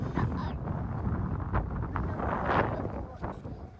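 Strong wind buffets the microphone outdoors in steady, rumbling low gusts that swell and ease for a few seconds, with faint rustling mixed in.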